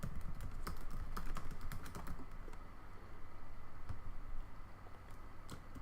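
Rapid clicking of keys on a computer keyboard while typing a test line, a close, fairly quiet flurry of taps with brief pauses and no talk.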